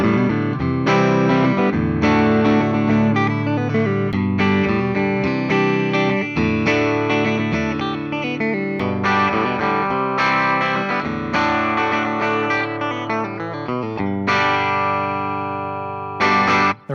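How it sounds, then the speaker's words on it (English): Loud electric guitar playing from a British Racing Green Gibson 50s Les Paul Standard through an amplifier: a continuous run of driven strummed chords and melodic lines with effects, ending on a ringing chord. "So let's go ahead, plug this one in, and hear how it sounds."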